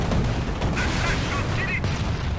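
Artillery barrage in Company of Heroes, a dense rumble of booming shell impacts and explosions piling over one another, loud and continuous, with battlefield chatter faintly mixed in.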